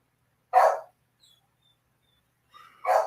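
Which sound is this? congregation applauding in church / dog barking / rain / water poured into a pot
dog barking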